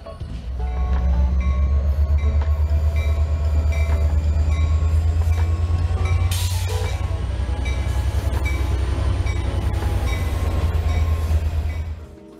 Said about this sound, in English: we can see a Saturday switcher shove a couple of cement hoppers into the plant